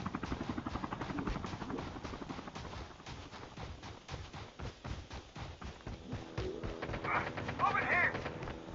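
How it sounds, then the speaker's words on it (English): Rapid rotor thumping of a helicopter in Call of Duty: Mobile, with scattered gunfire and voices talking over it at moderate loudness. "Helicopter on the other side."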